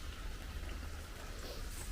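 Steady rain falls as a dense, even hiss of drops on surfaces, continuous and moderately faint with no voices.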